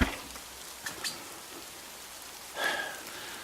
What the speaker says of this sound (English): It just started raining like 3 seconds ago.